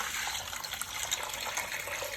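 Palm nut soup poured through a sieve into a black saucepan, giving a steady, close liquid gush and splash that runs alone for about two seconds.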